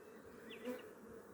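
Honeybees hum and buzz at an open hive in a continuous faint drone, with one bee's wingbeat swelling briefly as it passes close.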